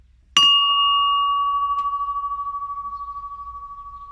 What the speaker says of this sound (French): Et puis ma cloche aussi que je vais installer. Je vous laisse apprécier la sonorité.